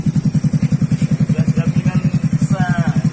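A Yamaha Mio scooter engine being revved on a test ride along a dirty road, running with a steady rapid chugging pulse, loud and close, with faint voices underneath.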